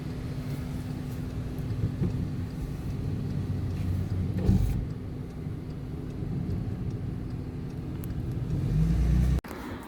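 Bus engine during a ride on the Isle of Wight, a steady low rumble and hum from inside the vehicle, with a brief swell midway and a louder surge near the end before a sudden drop.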